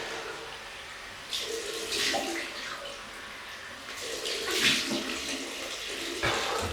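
Tap water running during a rinse after a wet shave, a soft continuous flow with louder splashes and bursts as water hits the face and sink.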